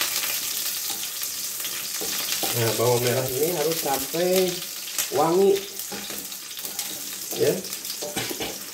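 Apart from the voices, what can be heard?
shallots frying for sambal terasi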